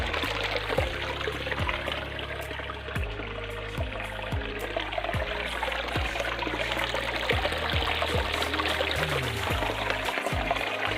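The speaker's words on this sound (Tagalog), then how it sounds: "dito ako sa sapa na to" Water flowing steadily in a rural provincial creek, a continuous close trickling and gurgling rush with no pause across the whole stretch and no talking.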